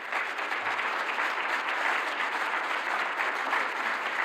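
Moderate, steady applause from an audience at the closing plenary of a science symposium, a dense even patter of clapping throughout with no speech.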